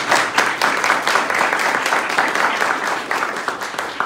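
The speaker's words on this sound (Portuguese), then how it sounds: "Peço até, por favor, uma salva de palmas para ela" Sustained applause from a seminar audience, many hands clapping in a continuous, fairly loud ripple that holds steady throughout.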